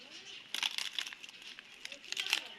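Two banana leaves for a fish paturi crinkle and rustle as they are laid one on top of another in a kadai, in close, crisp bursts that come and go.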